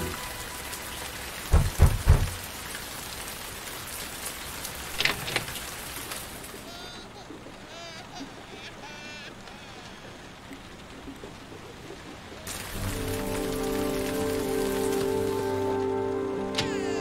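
Rain falling in the video game Heavy Rain, a steady hiss of downpour with a few sharp thuds early on, then game music enters over the rain.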